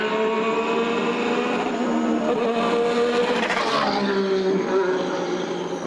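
Mercedes Formula 1 car with a turbocharged 1.6-litre engine on track at Jerez pre-season testing, a loud continuous engine whine with rising and falling pitch as it passes, no talking.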